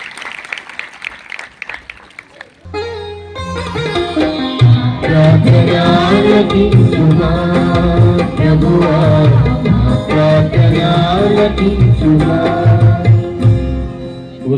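An audience claps at a parish festival; the applause bursts in loudly after a brief spoken lead-in and continues under live music with singing for the rest of the stretch.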